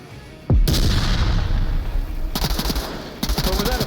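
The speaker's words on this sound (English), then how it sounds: "But was that a frag grenade? That actually might have been a frag grenade." A frag grenade goes off in the VR shooter Onward: a sudden loud, deep blast followed by rumbling and rapid crackling gunfire bursts, heavy and close, with faint voices underneath.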